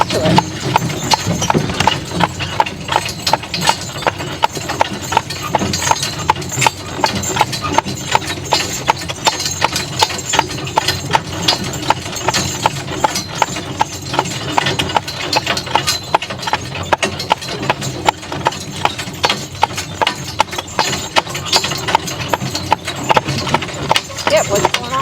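Horse hooves clip-clop steadily and up close as a horse named Baron pulls a buggy, a continuous even rhythm with wooden rattle and people talking over it.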